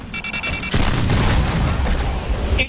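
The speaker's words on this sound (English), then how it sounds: "Throwing a grenade." A grenade explodes in a multiplayer shooter game, a loud, sudden boom that follows a short lead-in and rumbles on for about two seconds.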